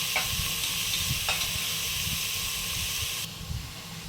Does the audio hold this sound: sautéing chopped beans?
yes